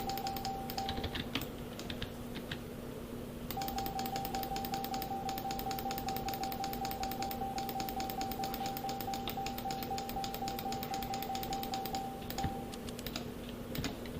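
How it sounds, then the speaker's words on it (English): An auto clicker drives rapid mouse clicking, a dense, fast, even stream of small clicks that runs nearly the whole time at moderate level over a steady electronic hum. "A lot of mouse clicking."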